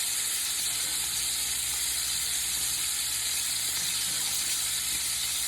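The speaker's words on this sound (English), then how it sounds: "Y'all hear them steaks screaming?" Steaks sizzle steadily in a hot iron skillet, a loud continuous crackling hiss close to the pan, with no voices during the stretch.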